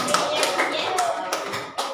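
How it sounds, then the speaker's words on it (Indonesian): Classmates in an Indonesian classroom clap for a student named Rizal, a short burst of several hands tapping fairly close, thinning out toward the end. "tepuk tangan buat Rizal, kawan-kawan"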